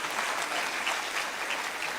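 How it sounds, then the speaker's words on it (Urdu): Brief, even applause from an audience at a grand alumni reunion in Muzaffarabad, a steady wash of many hands clapping at moderate distance with no voices over it. "تالیاں تھوڑی ہیں، اس کا مطلب اتفاق نہیں کرتے۔"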